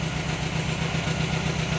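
A cold MGB engine idles close by with a steady, low rhythmic rumble and no voices over it.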